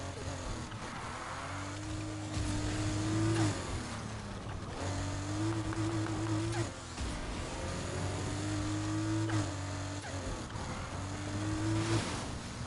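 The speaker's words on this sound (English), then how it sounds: "Smooth off-road drifting" An off-road car drifts in Need for Speed Heat, its engine revving in repeated rising and falling surges of mid-pitched drone, loud and continuous with no voices over it.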